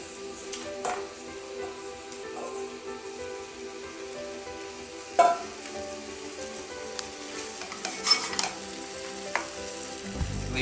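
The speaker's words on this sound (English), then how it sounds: "So you add your pork back in." Pork tenderloin sizzles as it goes back into a pan of curry made with apple cider. The frying is a steady, close crackle throughout, with occasional clinks and scrapes from stirring.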